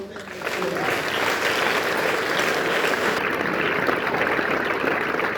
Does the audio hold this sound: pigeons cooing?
no